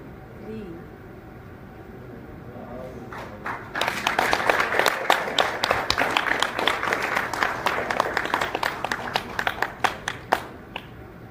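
An audience at the unveiling of a national cybersecurity plan breaks into applause, the clapping swelling from a scattered start into a dense, lively round that thins to a few last claps, with voices murmuring underneath.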